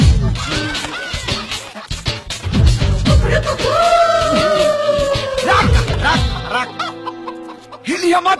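Chicken clucking in a busy comedy scene, mixed with shouting voices and clatter, loud and close, with a longer squawking call midway before things quiet near the end.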